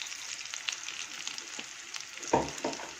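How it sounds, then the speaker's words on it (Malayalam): Chicken and capsicum with crushed chilli sizzle and fry steadily in a pan while being stirred, a spoon scraping through in a few short, louder strokes toward the end. "ഇനി ഈ ചിക്കനും ഈ ക്യാപ്സിക്കവും ഇതെല്ലാം കൂടെ നന്നായിട്ടൊന്ന് മിക്സ് ചെയ്ത് കൊടുക്കാം"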